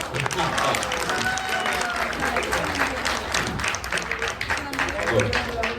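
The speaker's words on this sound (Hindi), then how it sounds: "इसके लिए जोरदार तालियां होनी चाहिए।" Loud, continuous applause from an audience cheering an actor's performance, with overlapping voices and shouts mixed in throughout.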